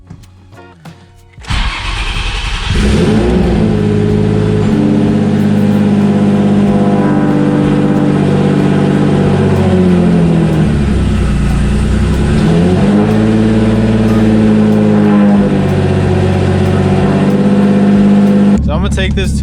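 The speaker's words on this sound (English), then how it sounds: "my car's gonna start idling all funky right now too with this cold start" A single-turbo Nissan 350Z cold-starts with a loud crank and catch, then settles into a rough, hunting idle from an exhaust or boost leak, its pitch dipping and rising for several seconds alone.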